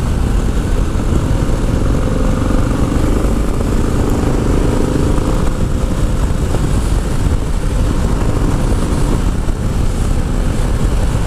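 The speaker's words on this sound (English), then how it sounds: "That exhaust note sounds fantastic." A 2025 Harley-Davidson Low Rider S motorcycle's deep exhaust rumbles steadily and loudly throughout, idling and lightly revving with no talking.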